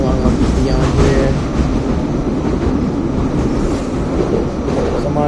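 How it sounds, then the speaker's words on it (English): Steady low rumble inside a moving Cleveland rapid transit train carriage, with continuous rolling noise and faint rattling throughout, no pauses. "I'm on a train right now"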